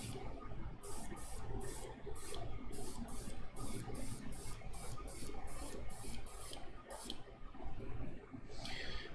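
Short repeated bursts of fine spray from an airbrush spritzing paint, about a dozen evenly spaced puffs over a steady background hum, close and fairly quiet, with a final longer spray near the end.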